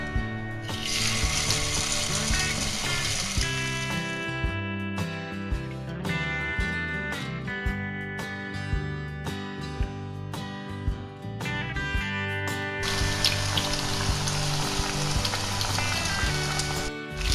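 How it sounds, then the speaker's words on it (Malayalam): Chicken pieces fry in hot oil over a low flame for restaurant-style chicken chilli, a loud, dense, steady sizzle with crackling and bubbling throughout, rising in intensity near the start and again toward the end. "ഇനി ലോ ഫ്ലെയിമിൽ വെച്ച് നമുക്കിതിലേക്ക് ചിക്കൻ പീസസ് ഇടാം"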